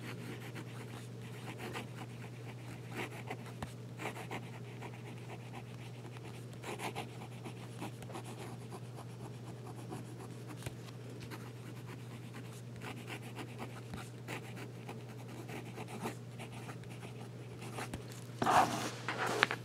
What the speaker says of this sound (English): And we'll do a little fast writing.